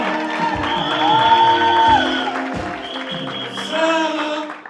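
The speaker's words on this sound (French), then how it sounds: "Applaudissons pour elle." Audience at a church graduation ceremony applauding and cheering a graduate in gown and cap, steady crowd noise with whoops and shouts swelling and fading, a sustained tone running through the middle.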